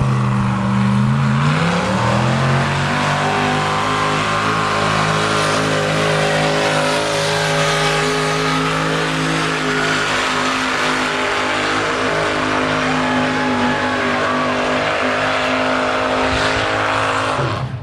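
A loud diesel pulling-truck engine roars steadily and climbs in pitch as it pulls at a truck pull, a heavy, continuous drone that holds at full power for the whole stretch with no talk.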